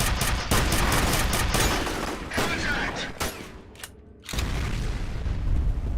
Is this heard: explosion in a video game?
yes